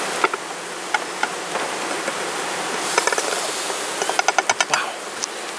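Honey bees buzz around the hives in a steady, airy hum, with brief clicking and ticking sounds appearing now and then over it.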